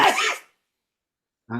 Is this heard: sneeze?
yes